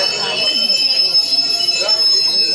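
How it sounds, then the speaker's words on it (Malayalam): The Alappuzha–Kannur Executive Express pulls into a station platform with a loud, steady rumble and high metallic wheel squeal, amid busy platform noise. "Alappuzha Kannur executive express 4ാമത്തെ പ്ലാറ്റ്ഫോമിലേക്ക് എത്തിച്ചേർന്നിട്ടുണ്ട്"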